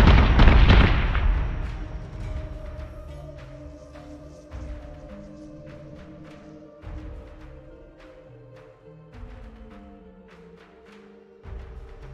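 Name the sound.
missiles launching and exploding in Battlestar Galactica Deadlock video game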